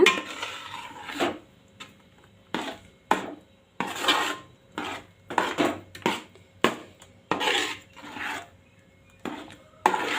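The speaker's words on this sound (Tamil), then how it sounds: "இதை வந்து நல்லா கிளறி விட்டுருங்க" Mango halwa being stirred in a pan with a spoon, giving repeated scraping and clinking strokes of metal against the pan at an irregular rhythm, close and moderately loud with no talk.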